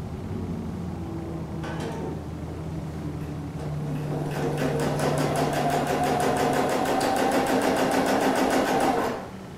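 A sewing machine stitches fabric pieces together for a quilt sampler in a rapid, steady mechanical chatter that speeds up and runs for several seconds, close and alone before stopping.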